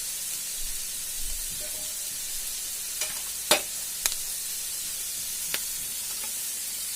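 Mixed vegetables for poha frying in a pan, a steady soft sizzle with a few sharp scrapes and taps of the stirring spoon against the pan, close up and with no talking.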